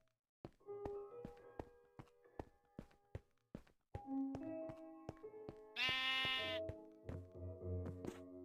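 A Minecraft sheep bleats once, loud and close, partway through hardcore survival play, amid steady tapping footsteps and blocky thunks.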